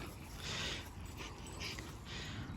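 Small dogs on a walk give soft, high whimpers and whines in a few short bursts close by, with panting and outdoor rustle between them.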